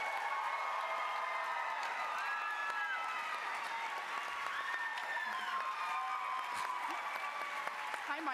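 An audience at the Animo product launch applauds steadily to welcome a speaker to the stage. The clapping is loud, even and sustained throughout, with a faint high hum underneath.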